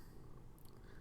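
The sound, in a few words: cat purring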